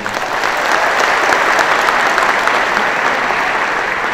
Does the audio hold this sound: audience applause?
yes